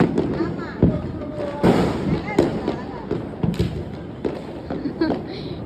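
Rapid Diwali firecrackers pop and bang repeatedly in an irregular string, loud and close, with people talking and shouting underneath.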